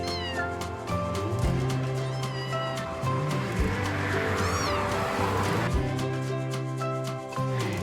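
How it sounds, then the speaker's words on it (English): Several cats meow repeatedly in Chefchaouen, Morocco, loud, close, drawn-out wailing calls overlapping one another, with a caterwaul-like yowl in the middle and a continuous outdoor background beneath. "There are so many cats in Chefchaouen."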